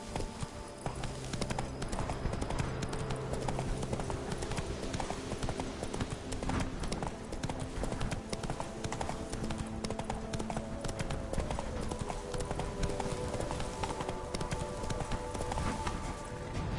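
Horse hooves gallop in The Witcher 3 video game, a continuous rapid clip-clop rhythm that stays loud and even for the whole stretch, with faint game ambience underneath.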